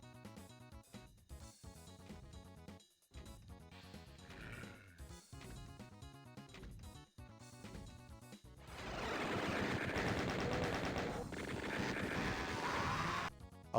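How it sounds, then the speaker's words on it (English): Chaingunner machine-gun fire in Doom II bursts in loud and sustained over the second half, a dense, rapid clatter. It follows a stretch of choppier game music and effects. "I knew that there was chain gunners in there."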